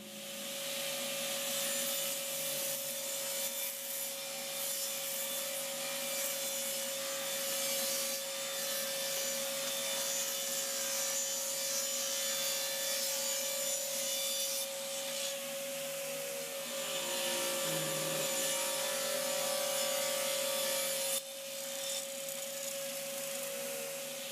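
A table saw makes test cuts in wood for an outfeed table setup, a sustained steady whine with a strong constant tone and grinding rasp, running loud and close for the whole stretch with brief dips.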